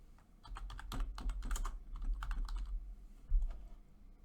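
Fingers type on a computer keyboard in a quick, irregular run of close, crisp clicks and key taps, with a couple of brief pauses and a firmer keystroke near the end, and no talking.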